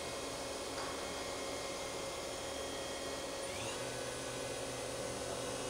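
Spindle of a Tsugami B0203-III CNC Swiss-type multi-axis lathe with FANUC control running at speed, a steady close whirring hum with a constant tonal whine and broadband noise throughout, rising slightly partway through.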